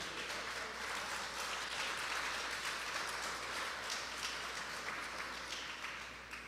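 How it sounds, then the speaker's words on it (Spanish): A church congregation applauds in a long, dense, even wash of clapping that stays steady and fairly distant for several seconds, fading slightly at the end. "Dele un aplauso al Señor."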